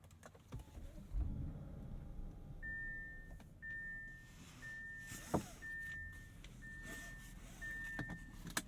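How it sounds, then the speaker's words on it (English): A Bentley Bentayga extended-wheelbase V8 starts and settles into a low, steady idle inside the cabin, with a series of six evenly spaced electronic chimes sounding over it and a sharp click midway. "A strum from the V8 to bid us adieu"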